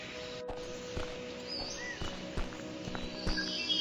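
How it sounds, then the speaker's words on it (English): Horse hoofbeats in the video game Spirit Animal Survival, several distinct clopping steps at an uneven pace over a steady game ambience, with faint bird calls. "And there we go. We got us a horse."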